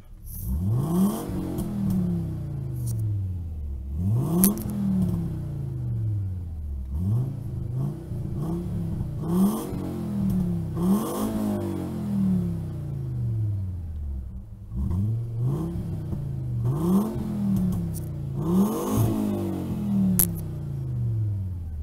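A VW Golf 4 with a VR5 engine revs repeatedly with its exhaust valve open, a loud rhythmic series of deep rising and falling blips roughly every two to three seconds, heard up close with no talking.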